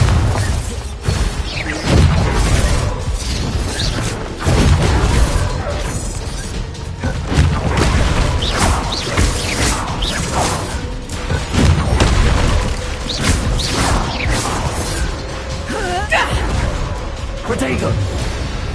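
Bombarda and Confringo blasting spells in the game Hogwarts Legacy explode again and again, a dense run of loud booms, crashes and whooshes with shouted spell incantations over the top.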